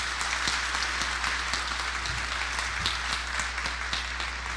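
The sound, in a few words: audience applause at festival opening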